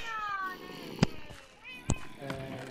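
A Minecraft cat meows in-game, with two short bright calls sounding over a background of game music and ambience. People talk nearby.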